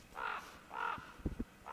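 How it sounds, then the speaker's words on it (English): A crow caws in Pennsylvania woods while harassing another animal, three drawn-out, evenly spaced caws at moderate distance, with a few faint knocks between them and no talking. "The crow's hazing it."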